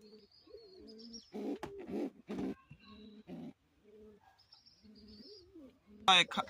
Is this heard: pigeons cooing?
yes